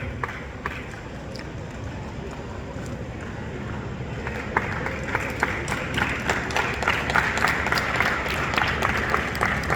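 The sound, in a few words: loud applause welcoming guest at taekwondo tournament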